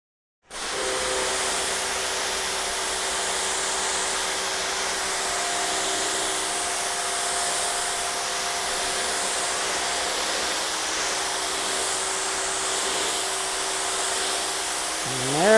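Sioux combo pressure washer and steam cleaner, model EN4.0-P1800, starts up and runs with a loud, steady hissing roar and motor hum, unbroken for the whole stretch and rising slightly at the end.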